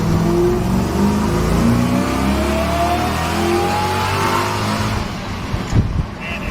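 A supercharged 3UZ V8 in a Toyota Stout revs hard and pulls away, its engine note climbing steadily and loud close by for several seconds before easing off near the end.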